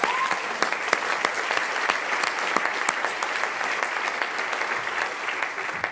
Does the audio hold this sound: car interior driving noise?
no